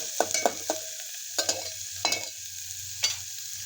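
Finely chopped onion sautés in a little oil in a pan for gobi manchurian, a steady soft sizzle broken by clinking scrapes of stirring, heard close up with no talking.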